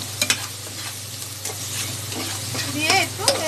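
Vegetables for fried rice cooked in a pressure cooker are stirred and fried, with steady sizzling and several sharp scrapes of a utensil against the pan in the foreground.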